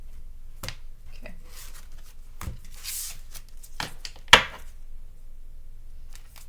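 A deck of tarot cards is shuffled in a few separate bursts of papery riffling and slapping, close and moderately loud, with one sharper snap near the end and quiet gaps between.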